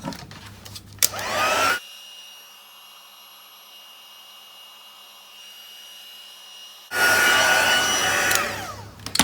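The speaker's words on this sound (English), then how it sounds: "I'm going to heat that with the heat tool just to set that colour" A heat tool roars loudly for about two seconds, stops for a long quiet stretch, then blows again steadily as it dries stamped ink colour on a handmade card.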